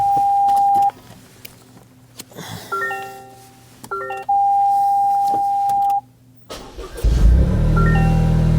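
A Toyota GR Corolla starts up in cold weather after chimes and beeps from the cabin, and the engine catches at the end with a loud low rumble.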